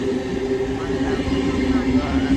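A train passes through Penshurst station quite fast, giving a continuous loud rumble with steady whining tones and no break in the sound.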